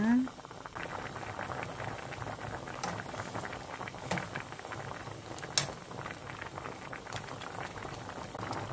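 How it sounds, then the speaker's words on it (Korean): A spicy stew of bracken fern and yellow croaker, seasoned with garlic, ginger and salted fish paste, boils hard in a pot on high heat. It gives a steady, dense bubbling and popping throughout, with a few sharper pops. "이게 팔팔 끓기 시작 뚜껑 덮어서 강불에 10분 두겠습니다"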